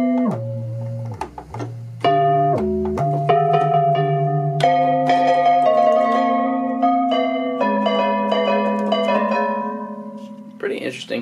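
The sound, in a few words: Yamaha DX7 synthesizer bell sound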